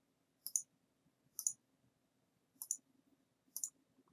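Computer mouse clicks during Revit architecture drafting, four crisp isolated clicks about a second apart, close and quiet against a faint background hum.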